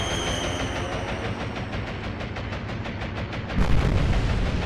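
Stuka dive bombers' bombs burst on a corvette in the Atlantic Fleet naval video game, a dense rumbling barrage that swells into a heavier, louder blast near the end, with no voices.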